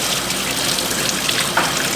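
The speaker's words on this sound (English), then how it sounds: "this is pretty hot water underneath the sink" Hot water runs steadily from a tap into the space under a sink, a constant close rushing stream with no pauses and no talk.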